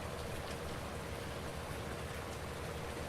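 Steady rain falls on a farm, a continuous even hiss of drops on surfaces that fills the whole stretch with no other sounds standing out.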